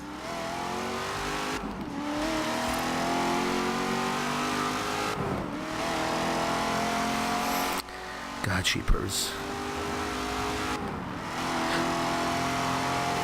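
Engine of a BMW in Forza Horizon 3 revving hard around 5,000 RPM with tires burning, a loud sustained roar broken by brief gear shifts, while someone talks over it.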